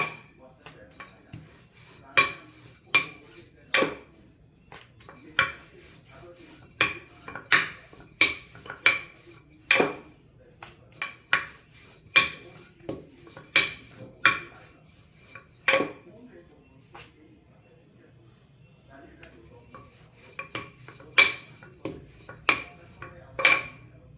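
A rolling pin works pumpkin chapati dough on a board in rhythmic knocks and scrapes, close and fairly loud, some strokes coming in quick bunches with short pauses between.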